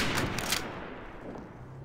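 Gunfire in the World War II shooter game Day of Defeat: a short, fairly quiet burst of rapid shots at the start that fades into a dull tail.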